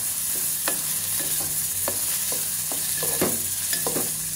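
Onion with turmeric being stir-fried in a pan makes a constant close sizzle, punctuated by quick repeated spatula scrapes and taps, and no speech is heard.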